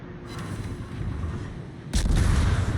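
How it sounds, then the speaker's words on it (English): Secondary gunfire from the battleship Schlieffen in a naval combat video game, a dull rumbling boom and background roar that swells into a louder, heavier blast near the end, with no talking. "Schlieffen's going to be throwing lots and lots of secondaries"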